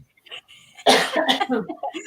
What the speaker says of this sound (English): Okay, you cough, I sneeze.